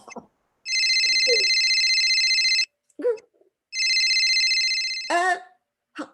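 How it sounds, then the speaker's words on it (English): Telephone ringing in two long, loud electronic trills separated by a pause, with short vocal sounds in the gaps and a brief squeaky whimper-like noise near the end. "Did the phone ring?"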